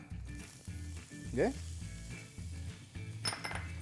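Onion sizzles in hot oil for a sofrito, a steady close frying hiss with stirring and utensil clinks, while a voice talks intermittently over it.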